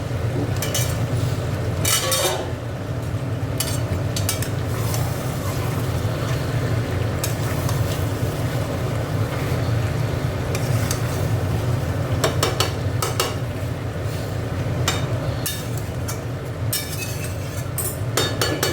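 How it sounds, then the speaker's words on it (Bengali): Chicken and potatoes fry in a pan while a metal spatula scrapes and clinks against it, a steady loud sizzle with a low rumble beneath and scattered sharp metallic knocks throughout. "চলো মাংসটা এবার একটু কষিয়ে নিই। দেখো, এবার আলুটা দিয়ে দিচ্ছি।"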